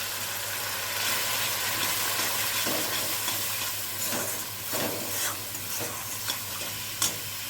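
Onion and added spices sizzle in hot oil while being stirred, a close continuous frying hiss broken by repeated scraping strokes and occasional sharper clicks toward the end.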